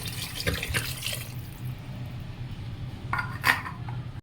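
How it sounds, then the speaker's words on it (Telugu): Bottled water, about a litre, poured into a pressure cooker pot of paya soup, giving soft splashing with a few metal clinks of the pot, close and fairly quiet, no talking. "1 లీటర్ బాటిల్ వాటర్ అయితే దీంట్లో యాడ్ చేసేస్తున్నాను, మొత్తం 1 లీటర్"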